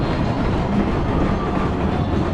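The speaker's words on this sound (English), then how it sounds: "It's more of a family like Woody, because it's the GCI with the Millennium Flight Trains on there." GCI wooden roller coaster at PortAventura running Millennium Flyer trains, a steady rolling rumble and rattle of the cars on the track, continuous and fairly loud, with no voices.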